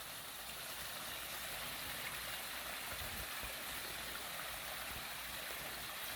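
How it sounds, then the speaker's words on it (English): Steady rushing of a small waterfall, a continuous broadband splash and hiss with no pauses, filling the scene at an even level. "A little waterfall in the woods."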